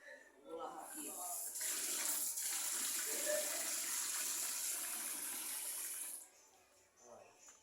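Running water pours steadily over electric fan parts being washed by hand, a loud continuous splashing rush that lasts several seconds before cutting off, with faint talk at the start and end.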